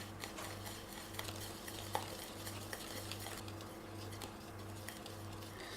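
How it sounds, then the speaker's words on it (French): Crêpe batter with sugar and a pinch of salt stirred in a bowl, soft continuous scraping and light tapping at close range, with a steady low hum underneath. "Et je remue."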